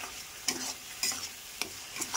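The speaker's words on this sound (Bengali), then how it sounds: "মশলাগুলোকে ভালো করে মিশিয়ে লবণ, হলুদ এবং কাশ্মীরি লঙ্কার গুঁড়ো দিয়েছি" Spices stirred with onion paste, tomato paste, salt, turmeric and Kashmiri chili powder in a pan, a soft steady sizzle broken by a few scraping strokes of a spoon.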